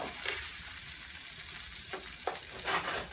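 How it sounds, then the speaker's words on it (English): Tomatoes cook in a pan for a baccala dish, a soft, even sizzle running throughout with a few brief stirring scrapes toward the end. "So we're gonna cook the tomatoes a little bit."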